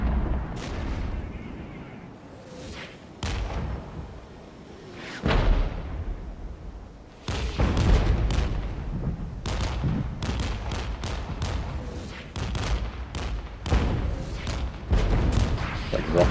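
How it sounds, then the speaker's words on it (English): Rocket artillery barrage in the Cold War strategy game Regiments: a long run of loud, close booms and sharp blasts. They come in dense clusters after a quieter stretch and keep hammering to the end, with a voice talking under the din. "Like rocket artillery coming in as well."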